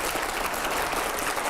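A studio audience at a televised panel show bursts into loud, dense applause that holds steady throughout the short moment.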